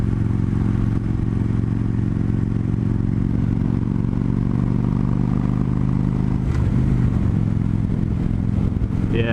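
A 2015 Victory Gunner cruiser motorcycle idles with a steady, deep, lumpy engine rumble heard up close, holding constant with only a slight shift in tone partway through and no talk.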